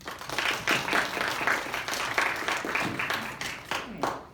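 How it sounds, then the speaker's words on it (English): An audience at a research presentation gives a round of applause, a dense, even patter of many hands clapping that carries on for several seconds at moderate volume, with no voices. "Let's give her a round of applause."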